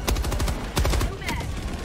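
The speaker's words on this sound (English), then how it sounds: "Firing orbital strike." Orbital strike barrage in the video game Helldivers 2: a loud, dense run of repeated heavy blasts and gunfire-like bursts, close and chaotic, with a voice talking over it.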